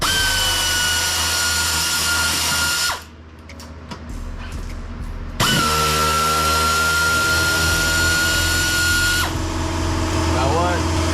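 A power tool, likely an impact driver or drill, runs in long sustained whines while removing bolts from a Supra body kit, with a brief pause and some talk around it.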